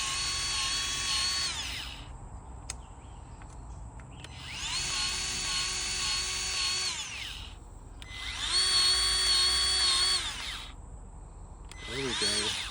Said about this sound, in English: So I'm using the Milwaukee 12-volt grease gun.